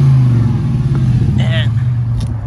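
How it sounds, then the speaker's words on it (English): Exhaust of a Ford car at a dealership, a low steady engine rumble close by, with someone talking over it. "if you can, like, hear the exhaust right now"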